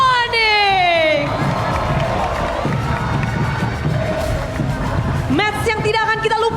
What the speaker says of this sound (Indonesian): mari kita sambut bersama-sama dengan tepukan meriah